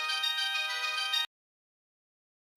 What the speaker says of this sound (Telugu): నీలాంబరి ఫోన్ చేస్తుందేంటి?